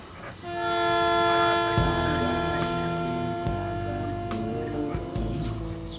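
An extremely long, heavy freight train hauling iron ore in the Amazon rumbles past, its horn blaring a loud sustained multi-tone chord over the rolling clatter and thumps of wagons on the track.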